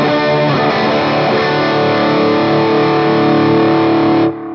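Distorted electric guitar on a PRS Custom 24 through a Line 6 Helix Uberschall and Boogie style rhythm tone with analog delay, reverb and compression, a loud sustained chord ringing steadily before stopping abruptly.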